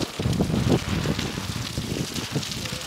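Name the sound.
heavy rain with wind in Hyderabad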